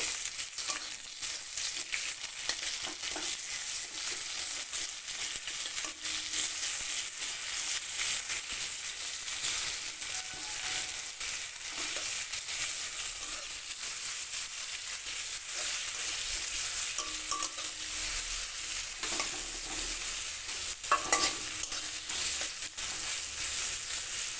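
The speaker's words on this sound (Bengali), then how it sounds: "পেঁয়াজ ব্রাউন কালার করে পেঁয়াজটা ভেজে নেব" Onions fry in a pan until brown, giving off a dense, steady hiss of sizzling oil that holds at a fairly even level throughout, with only light stirring and no speech.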